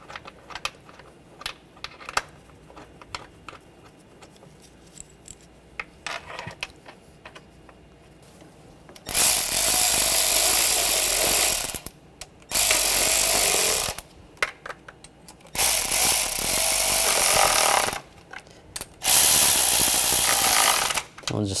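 A ratchet snugs down the intake manifold bolts on a 2009-2013 BMW 328i xDrive 3.0L inline-six, with four loud bursts of rapid clicking separated by pauses, preceded by quiet handling noises.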